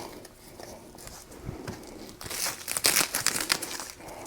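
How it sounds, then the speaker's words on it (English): Double-sided Velcro tape is handled and torn up close, making crinkly rustling and sharp tearing crackles that grow louder and busier toward the end. "Just going to take some regular double-sided Velcro"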